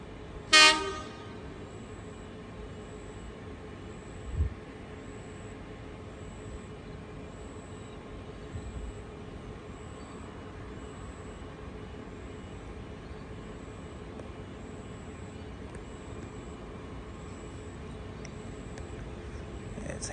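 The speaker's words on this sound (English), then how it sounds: "a Wollongong train coming" A Sydney Trains service bound for Wollongong gives a sharp, loud horn toot as it arrives, then a fainter second blip. A long, steady rumble of the train rolling into the station follows, with a thin high whine above it.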